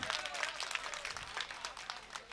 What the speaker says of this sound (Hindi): अगर गीत सुन रहा है तो एक बार जोरदार ताली बजा दो।